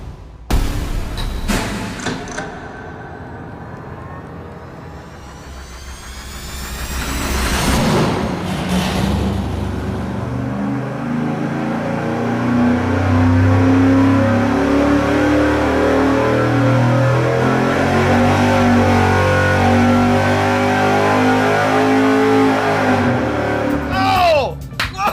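Stock Chevy 305 V8 on an engine dyno, fed nitrous, revving up with a loud sustained roar that climbs steadily for about twenty seconds, people talking briefly before the pull.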